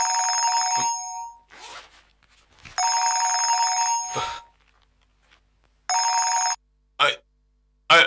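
A mobile phone rings in repeated loud electronic bursts of roughly a second or more, with short gaps and a few thuds and rustles between them, ending with clipped partial rings.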